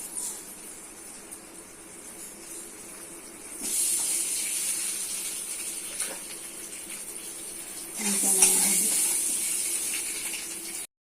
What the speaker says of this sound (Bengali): গরম হয়ে গেছে তেল দিচ্ছি একটু হলুদ গুঁড়ো একটু লবণ ডিমগুলো নামতে দিচ্ছি